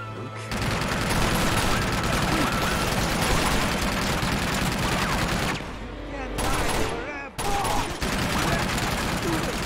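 A turret machine gun fires in Uncharted 2: Among Thieves, pouring out loud, continuous automatic fire for several seconds. After a short break it resumes in choppier bursts, with faint voices mixed in.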